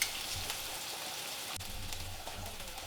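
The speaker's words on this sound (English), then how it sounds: "Then you're going to add in your oyster mushrooms and let them slowly cook down." Oyster mushrooms sweat in a pan with a soft, even sizzle running throughout, close and fairly quiet, with a light clink near the middle and no speech.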